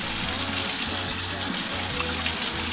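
Water runs steadily over a part of an Omega NC800 juicer being rinsed, a close, continuous gushing splash at an even level.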